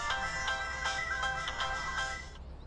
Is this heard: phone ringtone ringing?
yes